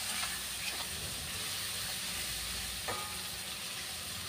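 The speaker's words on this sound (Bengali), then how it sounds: "একটু সাঁতলে গেছে চিংড়ি মাছটা" Prawns sizzle in a pan for a Bengali prawn dish, a steady, moderately quiet frying hiss with a few faint clicks and pops, heard alone without talk.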